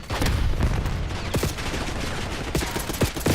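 Gunfire in the video game Call of Duty: Black Ops, with dense, loud bursts of automatic fire and sharp individual shots cracking over a busy battle din.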